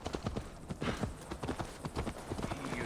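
Horse hooves clip-clop in a steady galloping rhythm while riding in the video game Assassin's Creed Valhalla on PS5, close and continuous with faint background ambience.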